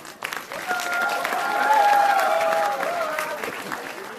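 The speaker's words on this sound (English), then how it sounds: "Round of applause." At a commerce and management conference at Mumbai University, an audience breaks into sustained applause that swells in the middle, with a held musical tone and crowd murmur underneath.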